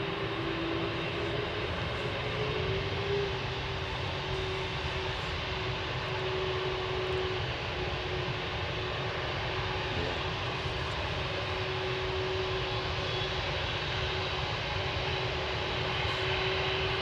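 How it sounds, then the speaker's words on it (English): MD-83 airliner jet engines at Anchorage, a continuous loud roaring whine with a steady tonal hum, sustained without a break and no talk. "This should be a nice cacophony of engine noises."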